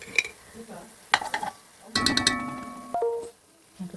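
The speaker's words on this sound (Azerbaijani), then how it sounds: "Burada qarışdırım tomatını." Tomato paste being stirred into fried onions in a hot pan, scraping spoon strokes and clinks against the pan over a soft sizzle, close and intermittent.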